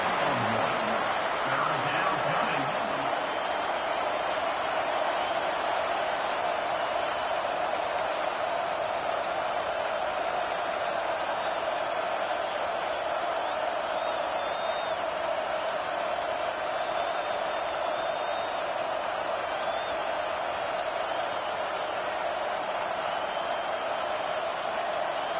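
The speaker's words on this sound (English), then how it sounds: "This crowd trying to make life miserable for this offense." Steady roar of a football stadium crowd during a league game, loud and sustained throughout with broad wash of cheering and murmur, a few brief louder swells, no talk over it.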